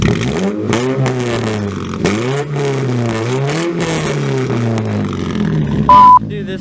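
A Saturn Sky 2.4 liter engine with new DDM Works performance headers revs up and down in repeated throaty bursts, loud and nearby, its pitch rising and falling with each blip, followed by a short electronic beep.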